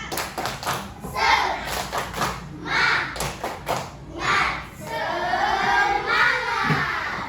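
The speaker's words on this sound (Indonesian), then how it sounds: "tepuk semangat" A primary school class claps a rhythmic spirit-clap pattern together, with quick bursts of sharp claps and thumps in the first few seconds, then children's voices and a teacher talking over the rest.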